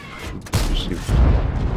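A tank cannon fires in an online tank battle game, likely a BISONTE C45, a sharp boom at about half a second followed by a rumbling low impact, loud and close, with no talk.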